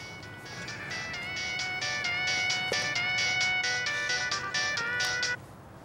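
A telephone ring tone plays as a bright, steady electronic melody of repeating tones at moderate loudness, close by and alone, lasting about five seconds before stopping abruptly.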